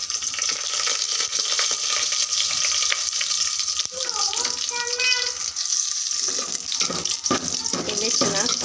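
Garlic, curry leaves and mustard seeds frying in hot oil give a constant loud sizzle and crackle, with occasional stirring scrapes and brief, faint speech partly under the hiss.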